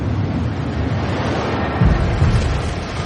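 Massive ocean waves from an asteroid impact in the Gulf of Mexico churn as a dense, continuous roar of surf and rumbling water, loud and unbroken, with heavier surges near the end.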